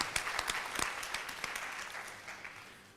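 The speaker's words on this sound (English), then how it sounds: "Yes, please give her a round of applause." Audience applause after a Bharatanatyam arangetram dance recital, a dense wash of many hands clapping with a few sharper claps standing out, steady at first and gradually thinning and fading toward the end.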